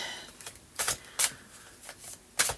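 A deck of tarot cards is shuffled close up in a series of crisp riffling bursts, about four quick flutters with short pauses between them, otherwise quiet.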